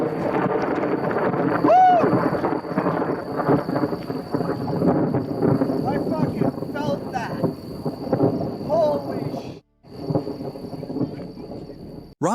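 Thunder from a lightning strike during a storm rolls in as a loud, sustained rumble, with rain and gusty wind buffeting the microphone throughout.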